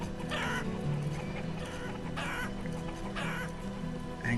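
Chickens cluck and call repeatedly in the city-building game Banished, a steady farmyard chorus with bursts of clucking over a constant ambient game bed.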